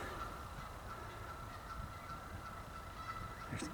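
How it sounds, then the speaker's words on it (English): Geese honking outdoors at a creek during a dig, faint and distant calls repeating over a steady noisy background with no talking. "There's geese."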